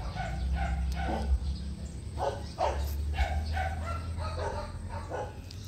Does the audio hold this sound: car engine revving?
no